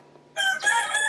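A chicken crows at the coop of a rural country house, a loud, bright call that starts suddenly after a brief quiet moment and carries on to the end.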